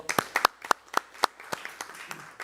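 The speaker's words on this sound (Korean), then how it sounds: "네, 큰 박수 부탁드립니다." Audience at a political debate forum on electoral law reform gives a short burst of applause, sparse claps ringing out close and distinct before thinning toward the end.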